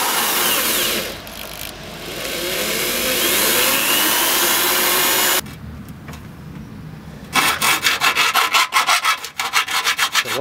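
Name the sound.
drilling holes with drill attachment for MX-5 roll cage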